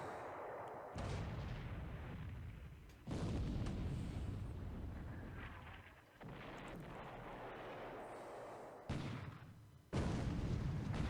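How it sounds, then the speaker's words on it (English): Torpedo hits explode in a naval war video game: several heavy, booming blasts in succession, each a loud sustained rumble cutting in abruptly and fading before the next. "And there's a torpedo hit! Two torpedo hits."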